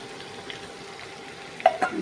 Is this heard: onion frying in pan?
yes